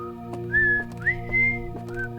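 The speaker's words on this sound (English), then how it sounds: "Now I got the little whistling song stuck in my head" Melodic whistling tune from the video game Outer Wilds, a few sustained rising and gliding notes over a steady harmonic musical drone, clear and fairly loud with no talking.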